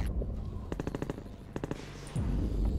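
Gunfire in the video game Half-Life 2, two rapid automatic bursts of about half a dozen sharp shots each, separated by a short pause, loud against a low rumbling game background.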